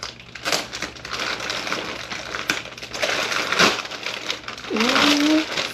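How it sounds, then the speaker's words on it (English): A new Fjallraven Farden 40L backpack's plastic packaging is torn open with a pull tab strip, giving loud close crinkling and ripping bursts in uneven clusters, with a brief voiced sound near the end. "Let's get into this packaging,"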